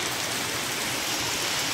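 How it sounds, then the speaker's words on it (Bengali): Heavy rain pours outside in a dense, even, hissing roar that stays loud and unbroken throughout, with no voices. "অনেক জোরে জোরে বৃষ্টি পড়তেছে।"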